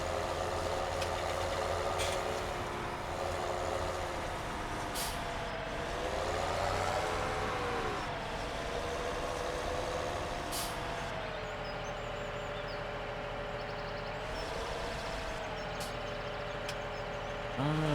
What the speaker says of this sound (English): I mean, this is an in-game trailer, in-game tractor.